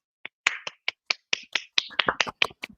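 A burst of quick, uneven hand claps, sharp and close, about a dozen hits over a few seconds with no talk.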